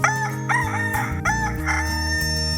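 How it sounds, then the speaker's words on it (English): A rooster crows loudly in a few drawn-out, rising and falling calls, clear and close, over a low sustained tone. "a rooster crowed"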